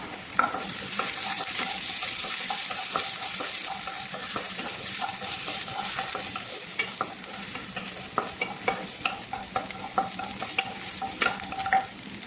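Garlic frying in a pan while being stirred for chicken soup, a steady sizzle running throughout with frequent small clicks and scrapes of the utensil, loudest toward the end.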